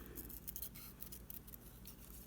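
Scissors snipping through a thin rectangle of paper grass, a quiet series of close, crisp cuts in an irregular rhythm with no talking.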